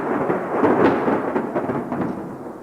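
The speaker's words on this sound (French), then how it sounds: "Mais soudain, il y eut comme un coup de tonnerre." Thunder clap rumbling through a storm, a broad low roll swelling and fading over a couple of seconds with a rain-like hiss underneath, no voices.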